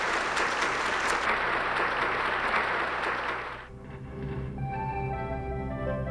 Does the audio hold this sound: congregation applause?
yes